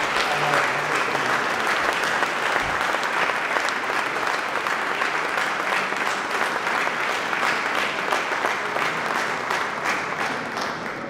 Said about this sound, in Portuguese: saudar com uma salva de palmas à Associação 25 de Abril